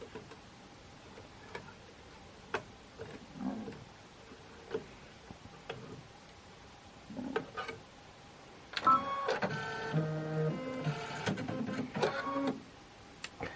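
An embroidery machine stitches a small marshmallow design with a topper in a Kimberbell Cup of Cheer sew-along. Scattered mechanical ticks come first, then a fast, rhythmic needle-stitching rattle that runs steadily through the last few seconds.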